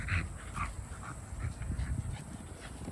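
A European-imported German Rottweiler with kennel cough makes soft close whimpering and panting sounds, faint and breathy, in short uneven bursts.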